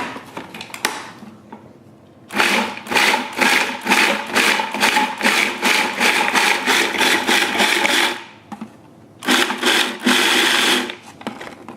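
A food processor pulses a raw nut-meat taco filling with fresh cilantro, giving loud, close bursts of rapid chopping whir, one short burst, a long stretch of repeated pulses, then two more bursts separated by brief quiet gaps.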